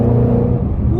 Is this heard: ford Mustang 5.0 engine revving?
yes